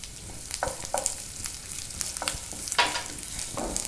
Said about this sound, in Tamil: கொஞ்சம் நேரம் இது வந்து இந்த ஆயிலில் ஃப்ரை ஆகட்டும்